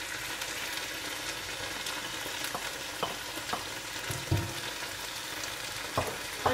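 Finely chopped potato and carrots fry in a pan for a keema pasta, giving a steady dense sizzle with occasional soft scraping knocks of a stirring spoon, close and without talk.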